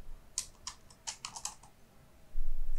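Short bursts of clicky keystrokes on a computer keyboard, a handful of quick taps close to the microphone, followed by a brief low thump.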